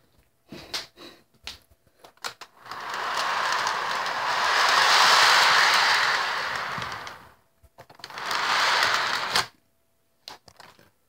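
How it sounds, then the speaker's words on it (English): A train rumbles past nearby, a broad steady roar swelling and fading over several seconds, followed by a second shorter burst, with scattered clicks before and after. "There's the train."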